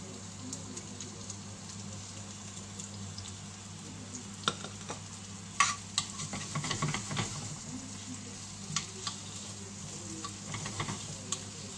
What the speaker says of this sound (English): Just gently fry them. Then in with the green peppers.